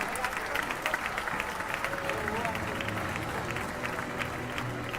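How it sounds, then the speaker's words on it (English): A school annual day crowd applauds Saffron House, steady dense clapping with some cheering, loud and continuous throughout. "Let's give them a spectacular round of applause"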